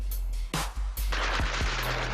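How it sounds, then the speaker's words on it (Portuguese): Gunfire from a Polícia Civil helicopter over a densely populated urban neighbourhood: several sharp shots cracking out in quick irregular succession over a continuous low rotor rumble. "Isso aqui é tiro disparado, sim, pelo helicóptero da Polícia Civil."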